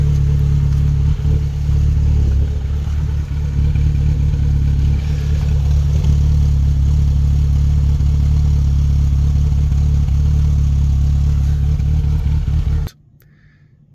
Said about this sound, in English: The idle was still high. It was idling a little rough.